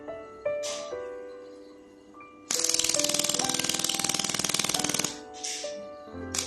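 A 200–400 W mold-repair laser welding machine firing with the foot pedal held, giving a steady rapid train of sharp ticking pulses for a couple of seconds between quieter electronic beeps and tones, close and fairly loud.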